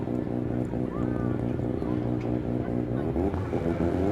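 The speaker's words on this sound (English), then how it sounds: "As they build up the revs." Drift cars at the start line of a D1NZ Pro-Championship top-16 battle in Wellington, engines revving steadily and loud, with commentary running over the engine drone throughout.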